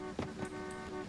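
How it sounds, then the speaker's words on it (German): Car horn honking in the video game Who's Your Daddy, a faint sustained tonal toot with a couple of brief louder blips, heard over a low background hum. "Ich höre es hupen."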